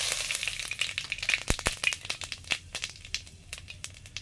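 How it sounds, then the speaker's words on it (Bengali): Five-spice tempering for a sour fish curry with vetki, starfruit, pumpkin and okra crackles and sizzles in hot oil, a dense close patter of pops with a couple of sharp clinks, no voices. "ফোড়ন দিলাম।"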